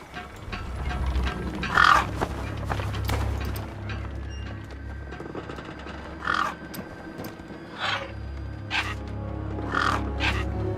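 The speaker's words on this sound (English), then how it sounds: "Then, I heard them. Gang birds, scavengers" Gang birds, scavenger birds in the video game Beyond a Steel Sky give harsh croaking, crow-like squawks in scattered bursts over a low rumbling wasteland ambience, with no voices.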